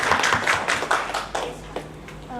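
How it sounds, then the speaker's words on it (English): Scattered clapping from an audience at a Kannada film press meet: a burst of claps that thins out into a few sparse, fairly close hand claps over a couple of seconds. "Big round of applause to Sabrish."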